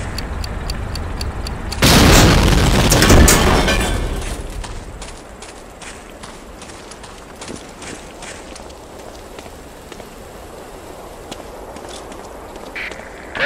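In Medal of Honor: Allied Assault, explosives planted on a tank detonate in a loud, sustained blast that rumbles and crackles for a couple of seconds, then fades into scattered debris clatter and quiet background ambience.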